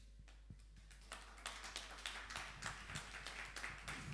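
A congregation applauds a preacher at a church service, many hands clapping steadily at a moderate distance over a low constant hum.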